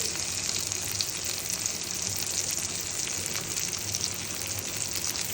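Sliced eggplant frying in oil in a pan for begun bhaja, giving off a steady, even sizzle that crackles continuously at close range with no voices.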